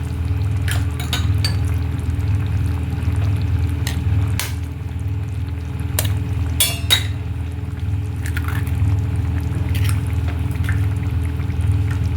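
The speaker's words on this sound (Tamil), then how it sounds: "5 முட்டை அப்படியே உடச்சி ஊற்றிட்டு" Five eggs cracked one after another and poured into a simmering egg drop curry for chapati and poori: close, crisp cracking taps followed by wet pouring and squishing, with no talking.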